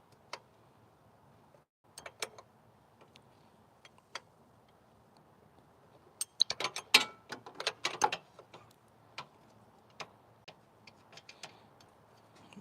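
A wrench works on a bolt of a 2010 Honda Element SC, giving faint, sparse metallic clicks and ticks, with a busier cluster of ratcheting clicks midway, in an otherwise quiet space.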